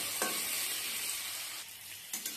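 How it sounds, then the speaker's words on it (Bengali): Cubed potato and pumpkin frying in oil in a pan, a steady close sizzle with brief scraping stirs of a spatula near the start and end. "আলু আর কুমড়োটাকে ভালো করে ভেজে নিয়ে তারপরে এর মধ্যে মশলা দেবো।"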